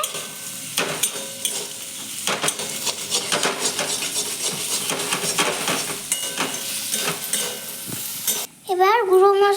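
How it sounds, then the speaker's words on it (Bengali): A spatula stirs food frying in a pan in a village kitchen, with repeated scraping strokes over a steady sizzle; a brief voice cuts in at the very end. "এই যে দেখুন ভালো করে নেড়ে নিতে হবে।"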